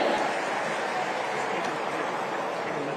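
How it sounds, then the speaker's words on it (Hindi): Steady broadband applause from an audience at a state-level Partition Horrors Remembrance Day event in Fatehabad, continuous and fairly loud for the whole stretch, with no talk over it. "एक जोरदार ताली आप इनके लिए जरूर बजा दें"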